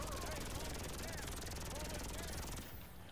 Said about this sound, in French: Oh y a l'hélico.